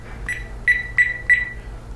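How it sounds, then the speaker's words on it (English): A ThermoWorks ChefAlarm cooking thermometer sounds its alarm: a short chirp followed by three loud, sharp electronic beeps in even rhythm, close and clear with no talking. "It's got an alarm. You can hear different volume settings."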